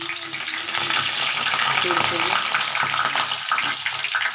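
An egg, tomato, green chilli and flour batter snack frying in a pan, with a loud continuous sizzle and crackle up close, plus some stirring and scraping throughout.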